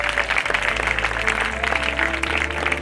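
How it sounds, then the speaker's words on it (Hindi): A congregation at a Sunday church meeting claps loudly and steadily, a dense burst of applause filling the hall from start to finish, with a low steady hum underneath. "अगर आए तो जोरदार तालियां बजाएंगे"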